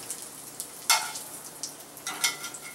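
Bacon fries in a pan with a faint, steady sizzle broken by a few brighter crackling bursts, with no voices over it.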